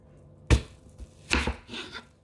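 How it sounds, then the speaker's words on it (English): A kitchen knife slices a peeled onion down the middle on a chopping board, producing a firm thud followed by a couple of quicker knocks and scrapes, close and fairly quiet. "you do need to cut it once, just down the middle"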